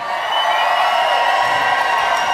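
A concert audience cheers and shouts in a loud, dense wall of crowd noise that holds steady throughout, with no single voice standing out.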